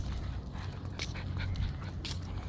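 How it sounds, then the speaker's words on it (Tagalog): A dog roaming a quiet street at night, heard nearby with panting and soft whimpers and a few sharp yips over a low, steady background hum. No one speaks. "gumagala pa ang aso"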